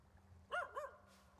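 A dog in the video game Show Me Your Frog gives two quick barks, the first louder than the second, over a faint game background.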